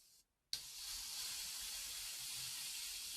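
A steady, close airy hiss of an airbrush spraying Tamiya LP lacquer paint at about 10 to 12 psi starts abruptly after a brief pause and holds evenly to the end.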